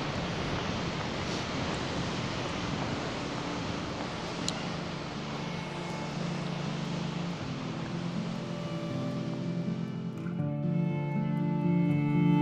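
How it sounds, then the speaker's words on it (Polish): An Icelandic waterfall roars as a steady, full rushing wash of water. Rain falls in grey weather, with a low rumble growing near the end. "Zatrzymaliśmy się jeszcze teraz zobaczyć dodatkowy wodospad"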